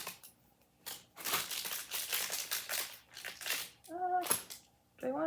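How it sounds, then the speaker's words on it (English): Scissors cutting open a plastic bag that holds instructions for a LEGO-compatible brick jewelry store set, with crinkly plastic rustling and cutting close by, then a few brief tonal sounds near the end. "we have to get the scissors out."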